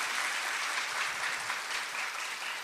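Lecture audience applauds in a brief, steady burst of many hands clapping, a dense hiss-like patter with no talk over it.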